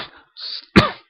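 A single harsh cough follows a brief throat-clearing rasp, loud and close to the microphone in a quiet room.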